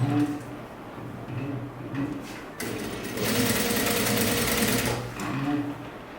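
Sewing machine running steadily while stitching binding onto the neckline of a sleeveless top, a continuous close mechanical whir with short pauses and speed changes, no talking.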